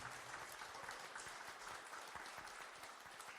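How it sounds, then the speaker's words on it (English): An audience at a housing panel event applauding volunteers and workers, a steady wash of many hands clapping at a distance, sustained throughout without voices. "let us give a big round of applause to all the volunteers and workers who are working on this event"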